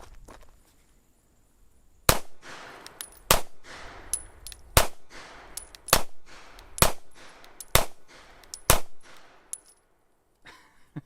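A S&W M&P Shield Plus pistol fires about ten sharp, loud shots at an uneven, deliberate pace, each crack ringing briefly with faint metallic pings between shots.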